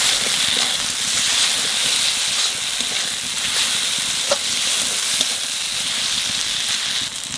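Green chilies go into mutton curry frying in a pan, giving a steady, close hissing sizzle that runs unbroken throughout with faint stirring clicks and no talking.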